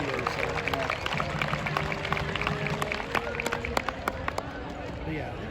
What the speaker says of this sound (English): Let's give a big round of applause for Coach Todd Bragg